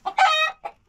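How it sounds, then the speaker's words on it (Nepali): A farmyard rooster in rural Nepal gives a short burst of close, loud clucks, three quick notes in under a second. "यो त भाले हो"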